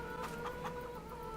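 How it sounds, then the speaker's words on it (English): Chickens cluck in Farming Simulator 22, a few soft rhythmic clucks over a steady low ambient hum, faint and without talk. "Hello, chickens. You doing alright?"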